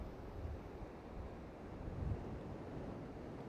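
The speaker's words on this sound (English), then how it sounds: "the sea's pretty rough today. There's a lot of white water coming in" Rough sea surf rolls in steadily at Crag Point, Seaton Sluice, white water churning, with a broad continuous wash and wind buffeting the microphone, a slightly stronger surge near the two-second mark.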